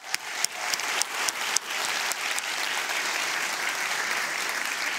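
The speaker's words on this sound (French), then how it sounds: "On va également applaudir bien fort la vice-présidente politique de site de CY Cergy Paris Université, Magali Jaouin." Audience applause at a university evening event honouring apprentices, with a few sharp claps standing out at first before settling into steady, full clapping from a sizeable crowd that continues to the end.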